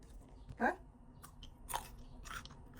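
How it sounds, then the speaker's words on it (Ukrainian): Crunchy fermented cucumber pickle bitten and chewed close up, a loud crisp crunch followed by quieter intermittent chewing bursts, in a quiet room. "Квашений, як справжній квашений огірок. І хрумкий."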